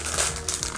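A plastic packet of soft vegan gummy sweets crinkles in a brief, close burst of crackling.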